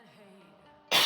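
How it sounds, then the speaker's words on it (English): A single loud cough into an elbow bursts out abruptly at the end, following a stretch of quiet tonal background sound. "I coughed into my elbow"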